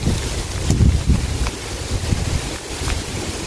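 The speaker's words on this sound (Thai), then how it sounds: "ทั้งฝนทั้งลมเนาะ" Wind and rain during a storm out on open water while fishing, with steady low gusting rumble and buffeting across the whole stretch, broken by a few faint brief knocks.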